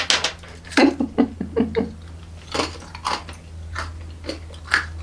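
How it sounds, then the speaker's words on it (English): Crunchy peanut brittle being bitten and chewed up close, a series of sharp crunching bites in quick succession followed by quieter chewing, with a steady low hum underneath. "the brittle in this is really super crunchy"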